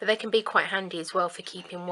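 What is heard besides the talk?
None of the usual background noises is heard.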